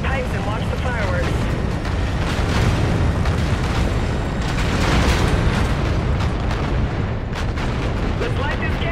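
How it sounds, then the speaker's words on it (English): A tower detonation in the sci-fi shooter Call of Duty: Infinite Warfare brings dense, continuous rumbling blasts and crackling booms that stay loud across the whole stretch, with voices talking over the explosions. "Visual on that tower detonation."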